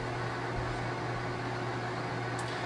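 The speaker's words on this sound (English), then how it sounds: "I don't know if you can hear that through the video, but it sounds like a fax machine." A TI-99/4A home computer loading data from cassette tape gives a steady, unbroken screech and hum much like a fax machine, heard alone at moderate volume.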